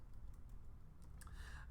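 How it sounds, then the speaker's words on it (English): Fingers patter on a computer keyboard in quick irregular bursts of light clicks, close and steady for under two seconds, a few louder taps near the end, with no voices. "I know you're typing."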